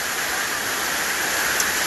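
Water rushes steadily through a mountain stream in a valley at Gwacheon, a loud, continuous close-up wash with no talk.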